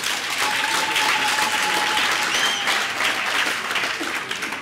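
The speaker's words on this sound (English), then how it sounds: "Give yourselves a round of applause." Congress delegates in a hall give a round of applause: dense, sustained clapping from a crowd that holds steady for several seconds, then begins to thin.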